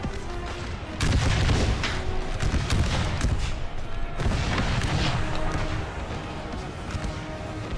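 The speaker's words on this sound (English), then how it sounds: "That was straight from the artillery there." Cannon and musket volleys roar across a battlefield in an American Civil War hardcore mod set in a blazing forest, with heavy booms and crackling gunfire rolling continuously at close to mid distance.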